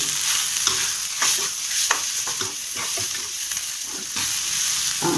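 Kashmiri chillies and tamarind sauté in a pan for a spicy chutney, giving a steady close sizzle broken by repeated scraping stirs of a spoon, with no talking.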